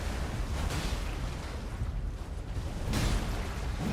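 A loud explosive blast in the game Elden Ring during a boss fight: a dense, rumbling roar fills the whole clip, surging again near the end, with no talk over it.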